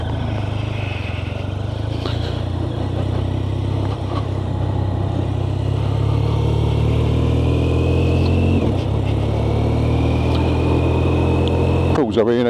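A 2026 BMW R12 GS with an oil-and-air-cooled 1200 engine pulling away through town, a steady close engine drone rising gradually in pitch, with a brief shift dip midway and wind rumble throughout.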